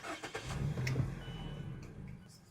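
A Mazda CX-5 engine with a newly replaced MAF sensor is shut off and restarted, giving a brief starter crank and catch that settles into a quiet, low idle recorded close by.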